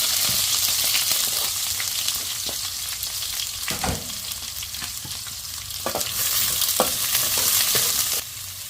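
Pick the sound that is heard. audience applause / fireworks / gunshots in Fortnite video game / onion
onion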